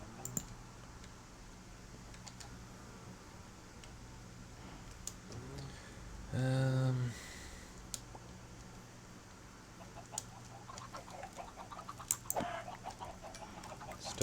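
Chickens in the video game Minecraft give a short burst of clucking midway, amid scattered clicks and faint game ambience.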